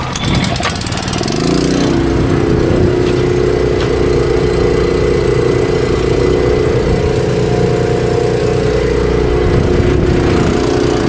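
A small engine, choked and started in a cotton field, settles into a loud, steady, even running drone that carries on unbroken for the whole stretch after a brief rough start.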